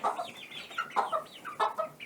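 Chickens in a flock cluck in short, repeated bursts at close range, several birds overlapping in an uneven rhythm, with no talking over them.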